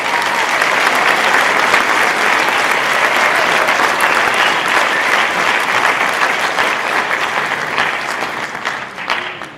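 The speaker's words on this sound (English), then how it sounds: "Let's give them a round of applause." Audience applause at a school all-band concert, a loud, sustained wash of many hands clapping that holds steady for nearly ten seconds before thinning slightly at the end, with no talking over it.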